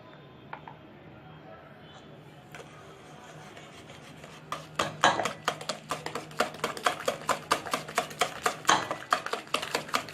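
Plain sweetened yogurt being beaten into homemade cake batter in a bowl, with quiet scraping first, then quick rhythmic tapping strokes of the utensil against the bowl, close and fairly loud.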